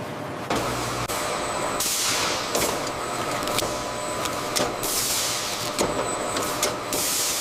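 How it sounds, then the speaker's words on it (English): A custom-built machine peeling bananas in a factory, with a steady mechanical hiss broken by repeated sharp bursts of air or spray, fairly loud and close throughout. "This custom-built machine peels thousands of bananas per hour."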